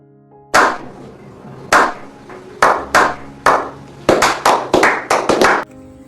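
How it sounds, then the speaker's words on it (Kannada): Someone claps hands in short, sharp bursts, first a few single claps spaced apart and then a quicker run of claps near the end, close and loud in a quiet space. "ಚಪ್ಪಾಳೆ ಬರಲಿ."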